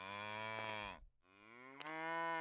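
Two long, drawn-out electronic moos from a moo can toy, each a buzzy, tonal lowing call, separated by a brief pause.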